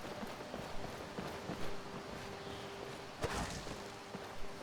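A horse in the video game Skyrim clops along with a steady run of hoofbeats, mixed with soft whooshing and rustling game ambience.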